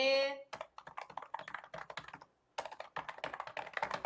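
Computer keyboard typing as an address is entered: quick, close clicking keystrokes in dense bursts after a short tone at the start, with a brief pause midway and no talking.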